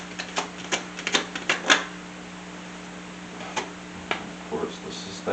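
Tarot cards are shuffled and flipped, a quick run of crisp clicking snaps up close, then sparser taps after a short pause.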